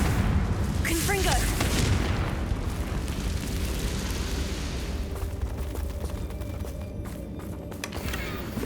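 A fiery Confringo blasting spell explodes in the Hogwarts Legacy video game, a loud rolling boom with crackling debris that sustains for several seconds, with voices talking over it.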